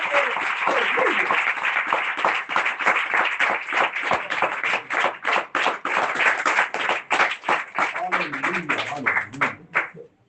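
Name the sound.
audience clapping and applause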